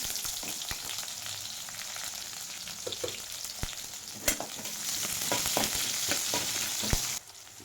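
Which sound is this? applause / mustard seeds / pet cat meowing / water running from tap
mustard seeds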